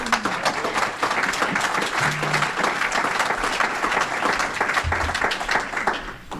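A club audience claps steadily to welcome Officer Mike Seeger, dense sustained applause filling the room, with a few faint voices and tapering off at the end.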